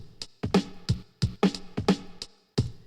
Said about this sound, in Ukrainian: це звучать барабани